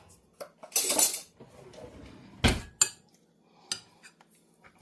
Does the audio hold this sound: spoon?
yes